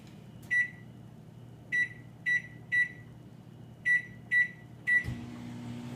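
A microwave oven warming white chocolate chips hums low and steady while its keypad gives seven short, clear beeps in uneven groups, followed by a clunk and a slightly louder running hum.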